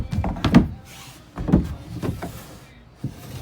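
A good-sized storage drawer beneath the bunks of an Arctic Wolf 321BH RV is pulled out twice, each pull making a short sliding rumble with a thunk that stands out over quiet room sound.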